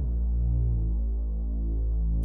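A deep, sustained synth bass pad built in the Vital synthesizer, shaped with low-pass and high-pass filters, holding a thick, steady low drone with a gently throbbing texture that plays on its own.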